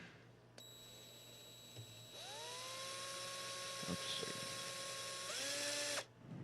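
A high-pitched Milwaukee power drill whines steadily, its tone rising as it spins up and shifting before it stops; a brief spoken remark comes near the start.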